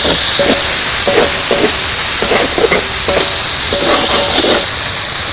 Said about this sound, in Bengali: আদাটাকে নেড়ে চেড়ে আমি এবার গোটা মশলা বাটাটা আমি দিয়ে দিলাম।